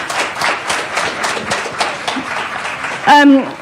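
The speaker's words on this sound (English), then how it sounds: "They're applauding for that." An audience at a Seattle club event claps in a loose, rhythmic patter that fades gradually, before a single voice cuts in briefly at the end.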